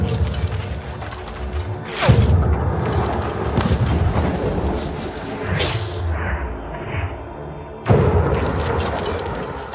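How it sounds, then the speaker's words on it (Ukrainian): Gunfire from a pistol, a double-barrel shotgun and rifles aimed at a Tesla Cybertruck: a few loud, sharp blasts, each with a booming outdoor tail, spaced several seconds apart with no talking. "Ми стріляли з пістолета Томи в бік е, цього грузовика"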